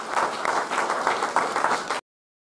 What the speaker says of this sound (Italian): che salutiamo con un applauso